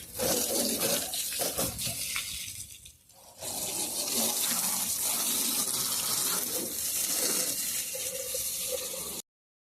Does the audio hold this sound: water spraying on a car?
yes